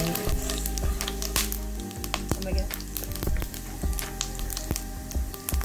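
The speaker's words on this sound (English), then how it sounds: "And fry cumin seeds, fennel seeds, cloves, and" Whole spices—cumin and fennel seeds, cloves and cardamom—sizzle and crackle in hot canola oil while a mutton curry base starts, a steady loud frying hiss with scattered sharp pops and stirring scrapes throughout.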